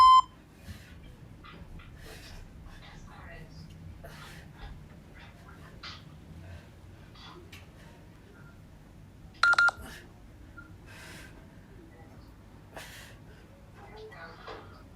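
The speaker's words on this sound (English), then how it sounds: "I think you can probably all hear the timer." Electronic interval timer during a home core workout, with one short, loud double beep partway through. A woman coaches throughout, and faint household noises sit in the background.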